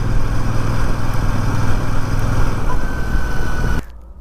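A Royal Enfield Super Meteor 650 motorcycle engine runs with a loud, steady, close drone for nearly four seconds, then cuts off abruptly into near silence.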